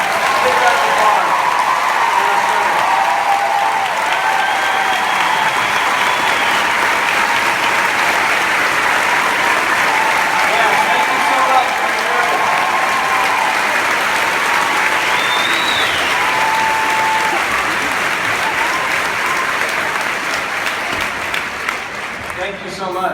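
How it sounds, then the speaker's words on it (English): Sustained applause from a large audience at a 2016 Plexus leaders' retreat, honoring veterans and public works workers, as a steady dense wash of clapping at full volume that continues for over twenty seconds before easing slightly at the end. "Let's give them a big round of applause."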